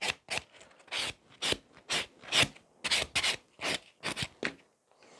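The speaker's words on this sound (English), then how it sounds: "I can just go with the buffer all over the nail" A buffer rubs back and forth across a sculpted fiber gel nail in a salon setting, about a dozen brisk, evenly spaced raspy strokes, close and fairly quiet, with no talking.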